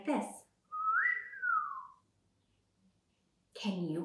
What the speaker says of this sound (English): Whistle means to make a sound with your lips, like this.